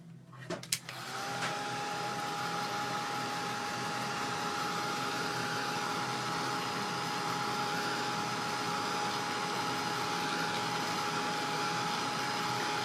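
A heat tool or dryer switches on with a click and blows steadily to dry stencil paint for papercraft, a close, constant whirring hum that holds without talking.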